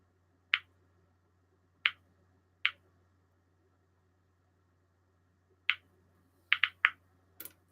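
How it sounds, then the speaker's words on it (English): A radiation mini monitor gives sparse, sharp clicks, about ten in all. They come at irregular intervals, a few clustered near the end, and are close and clear against a quiet background. "The only one that you'll hear click in here, and it does make a very nice clicking noise, is my mini monitor"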